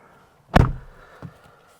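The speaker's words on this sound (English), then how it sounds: "Close the door." A Lexus IS300 car door shuts with a single solid thud, followed by a fainter latch click about half a second later, in an otherwise quiet setting.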